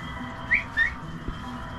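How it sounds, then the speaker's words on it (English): Cockatiels or cockatoos in a shop whistling, two short bright chirping whistles close together over a low background hum. "These cockatiels or cockatoos?"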